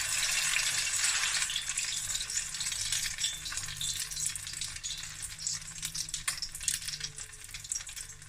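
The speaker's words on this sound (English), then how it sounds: "frying it with that nice golden brown outer crust" Haddock frikkadel fish cakes fry in a pan of hot oil, giving a steady, dense, crackling sizzle that runs continuously close up without any talking.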